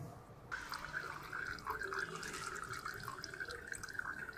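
Old engine oil drains from a Yamaha XTZ125 motorcycle during an oil change, a faint, steady trickle and patter of liquid running continuously, heard close in a quiet space with no talking.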